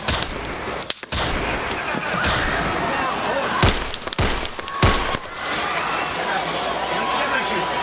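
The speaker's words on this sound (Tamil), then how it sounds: "ஆதரவாளர்கள் மத்தியில் உரையாற்றிக் கொண்டிருந்த முன்னாள் அதிபர் ட்ரம்ப் மீது துப்பாக்கிச்சூடு நடத்தப்பட்டதில்" Gunshots fired at a Trump rally in Pennsylvania: several sharp, loud cracks in quick bursts over crowd noise and shouting, with people talking and yelling throughout.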